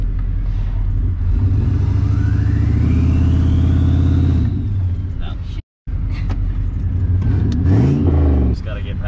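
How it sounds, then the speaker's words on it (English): A turbocharged 5.3L GMC Yukon V8 with no other mods revs hard, rising and swelling over several seconds, breaking off briefly, then roaring again, loud and close as it attempts a burnout, with people talking nearby. "Try to do a burnout if you can."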